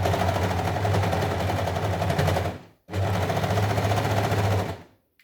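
Serger overlock sewing machine stitching through fabric for a face mask, a loud fast steady mechanical whir in two bursts with a brief stop between them and a tapering end.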